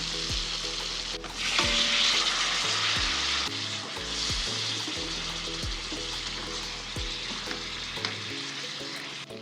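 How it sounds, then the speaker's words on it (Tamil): Boiled eggs being stirred into sizzling masala for Tamil egg thokku, a steady close frying hiss with repeated soft scraping stir strokes over background music, no talking. "இதில் வேக வச்சுருக்க முட்டையை மிக்ஸ் பண்ண போகிறேன்."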